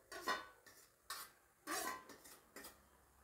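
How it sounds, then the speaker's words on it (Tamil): Rava kesari being stirred in a pan, heard as a few quiet, separate scrapes and clinks of the spoon against the pan. "இன்னும் அது நல்லா கிண்டி விட்டுருங்க"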